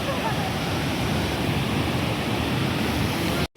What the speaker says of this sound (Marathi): आणि खूप असं पाण्याचा आवाज येत आहे